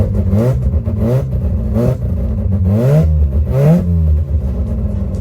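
A Mazda RX-7 rotary engine, just back to full loudness after its fuel line and jets were cleaned of debris, blipped at idle: about four sharp rising revs in quick succession, loud and close.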